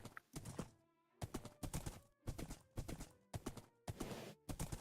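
Horse hooves clip-clop in a video game, in a rapid run of close, loud, evenly spaced hoofbeats that carry on steadily through the whole stretch.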